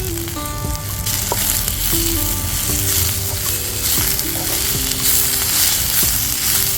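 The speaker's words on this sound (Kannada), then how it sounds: "ಇದನ್ನೆಲ್ಲ ಚೆನ್ನಾಗಿ ಫ್ರೈ ಮಾಡ್ಕೊಳ್ಳಿ." Poppy seeds, sesame, coriander and mint frying in a pan over a wood-fired stove, a loud dense sizzle with a few stirring scrapes, heard close and alone.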